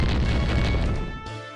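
A loud, deep explosive boom in the video game Pokemon Uranium fills the clip with dense rumbling low-end, then cuts off abruptly into a quieter ringing tail.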